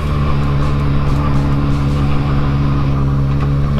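Honda CB350F motorcycle engine running on a test ride, a steady droning hum with strong low tones, close and continuous with no speech.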